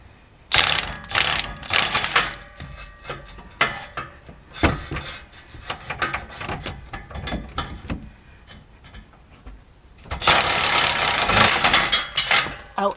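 Pneumatic impact gun driving a nut on a Ford F-250 steering component under the truck near the rear end housing: rapid ratcheting bursts hammer in repeated spurts, close and loud, ending in a sustained rattling run.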